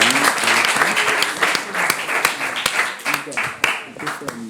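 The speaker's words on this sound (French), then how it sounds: "On les applaudit quand même, nos deux amis." An audience at a provincial quiz contest for young students claps steadily throughout, a dense, close stretch of applause with sharp individual claps standing out, while a presenter's voice speaks over it.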